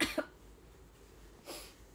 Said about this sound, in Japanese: 咳ってさ、 一回すると止まらんくなるよな。